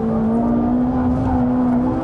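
A Ferrari 458 Italia V8 engine on track holding a steady high drone and slowly rising in pitch, loud and close, with no one talking.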